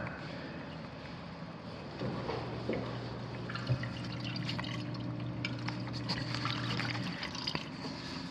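A dishwasher in a newly built East Texas home drains after a cycle, giving a steady low pump hum with trickling, dripping water for about five seconds amid faint background noise.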